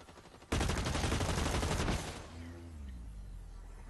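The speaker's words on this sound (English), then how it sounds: "I think there's points where I end up firing a whole clip at someone" A continuous burst of automatic gunfire in Blacklight Retribution, emptying a whole magazine in about a second and a half before cutting off, followed by a fading mechanical tail.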